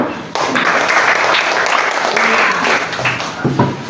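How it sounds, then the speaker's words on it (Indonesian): An indoor audience of a classroom or school assembly in Indonesia claps together, a dense steady applause that holds for about four seconds after a brief quiet opening. "Ayo semua kita beri aplaus untuk kita semua."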